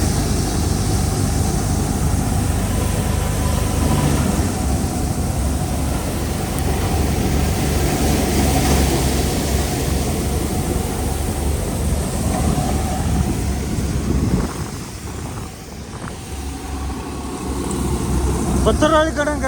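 An old-model tractor-driven wheat straw chopper runs in a wheat field, a loud continuous engine roar and mechanical churn that eases briefly near the end, with a voice speaking over it.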